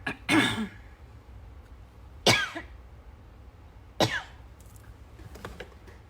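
Three sharp, harsh coughs spaced a couple of seconds apart, each with a rough throaty tail, followed by softer throat-clearing noises at the end.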